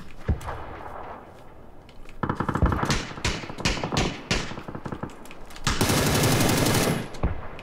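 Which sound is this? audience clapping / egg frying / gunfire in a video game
gunfire in a video game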